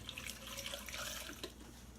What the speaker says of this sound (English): So I just put a little bit of water in here.